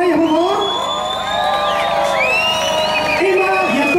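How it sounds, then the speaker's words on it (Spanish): A beer festival crowd in La Serena cheers and whoops loudly and steadily for two young women about to introduce a performer, with shouted voices and a brief spoken line near the start and end. "Así que un aplauso reto para ellas, por favor."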